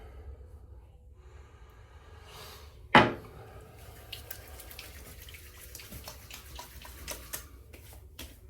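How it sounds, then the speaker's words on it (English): A short wet splash of aftershave slapped onto skin after a wet shave with shave soap, one sharp burst followed by quieter rustling and small taps in a quiet room. "A little aftershave splash here."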